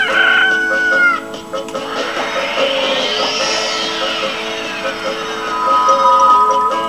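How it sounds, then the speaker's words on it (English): A chicken in the video game Billy Hatcher and the Giant Egg clucks and crows loudly over bright, swooping game music and effects. "And here's our last chicken."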